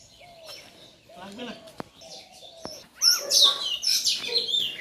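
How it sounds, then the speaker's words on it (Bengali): Birds chirp and tweet in quick, bright bursts that grow louder and busier in the second half, with a person talking nearby and a couple of sharp clicks early on. "পাখিগুলা কি কিচির মিচির করতেছে গো"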